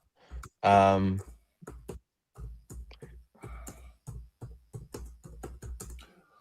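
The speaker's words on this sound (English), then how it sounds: "Sorry, I'm typing, guys." Rapid clicks of keyboard typing come in irregular bursts, close by, with a brief voiced sound near the start.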